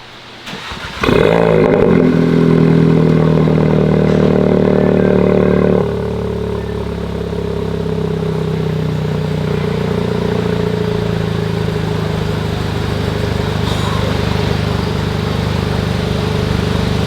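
2019 Audi S3 running through an aftermarket exhaust with switchable valves: a sharp loud start-up flare, then a steady close, droning idle that steps down to a quieter rumble; no talk.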